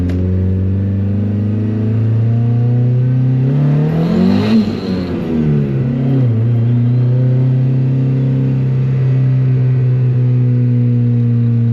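A turbocharged Honda Civic pulls at full throttle in fifth gear, a loud sustained engine drone rising in pitch, with a brief surge and wavering tone midway before settling into a steady high roar.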